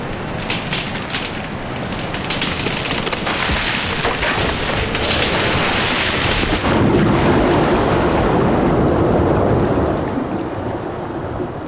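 A winter coastal storm roars without a break, with heavy rain and rumbling thunder merging into a loud dense wash. The roar swells and deepens partway through and carries on strongly to the end.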